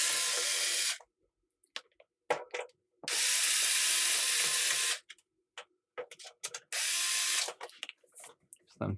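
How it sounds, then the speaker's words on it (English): A power screwdriver removes socket screws from an Amiga 500 floppy drive. Three long, steady whirring bursts alternate with brief clicks and quiet handling between them, close to the mic. "now got to get all of these socket screws off"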